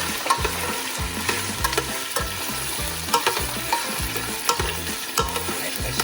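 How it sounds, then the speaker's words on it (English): Meat laid with tongs into a hot pan for an easy nihari sears with a loud, continuous sizzle and crackle, close up, with a faint low rhythmic thumping beneath and no talk. "let it sear for a little bit."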